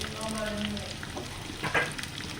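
Chopped onions with salt sizzle in a pan for a prawn roast, a close, steady frying hiss with a faint tonal hum early on and a brief stir rustle toward the end.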